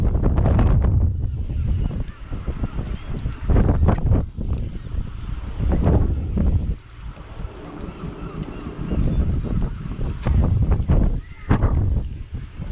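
Steady wind on the seafront at West Bay, Bridport, Dorset, buffets the microphone with low rumbling gusts, loud and continuous throughout, with brief lulls.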